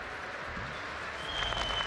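A crowd applauds at a Vishwakarma Jayanti event addressed by PM Modi, a soft, distant, continuous patter of clapping that swells a little near the end.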